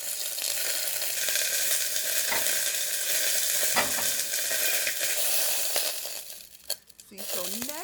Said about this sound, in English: we're just turning them back and forth, just browning them on the outside, not fully cooking them right now